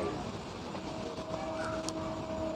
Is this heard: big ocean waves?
no